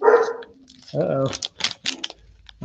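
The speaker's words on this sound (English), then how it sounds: "My dog's not too happy." A dog barks indoors in a few short, loud bursts while a person talks nearby during a Panini Prizm UFC trading card break.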